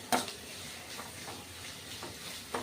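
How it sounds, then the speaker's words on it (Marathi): Chopped onion and garlic are stirred in hot oil in a pan, a soft sizzle with a few short scraping strokes of the spoon, close and fairly quiet. "इथे कांदा आणि लसूण एकदा वेळा आपण हलवून घेऊया तेलामध्ये"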